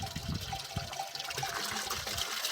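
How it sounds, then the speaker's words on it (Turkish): Goats drink water at a highland pasture, producing steady wet lapping and trickling sounds that are close and moderately loud, with a few soft low thuds and no voices. "özellikle suyu temiz yerden içmeye çalışıyorlar"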